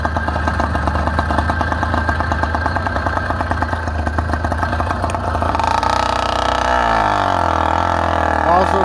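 Motorized bike with a cleaned-up exhaust and a new carb intake, its small engine running close and loud in a fast, buzzing idle that rises in pitch toward the end.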